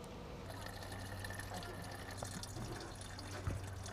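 Colored 190 proof alcohol is poured in a soft, steady trickle that runs for several seconds, quiet and close, over a low constant hum.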